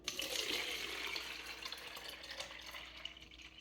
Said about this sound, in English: I get a spray bottle, fill it with about 3 cups